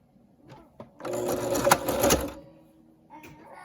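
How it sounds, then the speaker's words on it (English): A sewing machine stitching along the top of a scrap dress runs in one fast, continuous whirring burst of about a second and a half, close and clear, framed by quiet handling noises before and after. "now we're going to sew right along the top"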